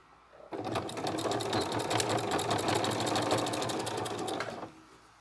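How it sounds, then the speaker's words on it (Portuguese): Sewing machine stitching binding trim onto a Christmas project, a steady fast rhythmic whirring of needle strokes that runs continuously at close range for about four seconds before stopping. "Alinho o pé da máquina aqui. E sigo costurando, lá da beiradinha."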